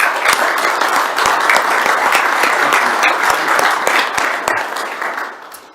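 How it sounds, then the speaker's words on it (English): Audience at a regular county meeting gives a round of applause, a dense and loud burst of clapping held steady for several seconds before tapering off. "Let's give these guys a round of applause."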